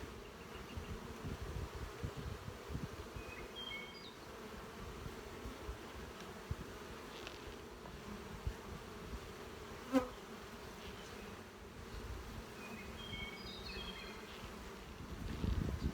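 Honeybees buzzing steadily around hive colonies in an apiary, a dense continuous drone of many insects close by, with a few faint higher chirps and a brief knock near the end.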